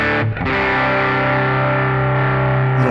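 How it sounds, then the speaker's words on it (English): An electric guitar played through a Kemper profiler on a vibrato channel rings out sustained, distorted chords, loud and alone after a brief opening stroke. "We could move over to the vibrato channel."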